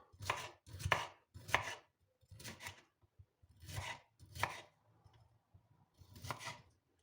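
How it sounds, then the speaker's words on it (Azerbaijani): A knife chops cucumber on a board for a lettuce salad, in bursts of rapid, crisp strokes separated by short pauses, close and clear with no talking. "bax bu şəkildə beləcə samavari doğrayırıq"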